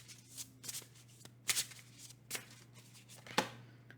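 An oracle card deck is shuffled by hand in several quick bursts of riffling and slapping cards, close and crisp over a low steady hum.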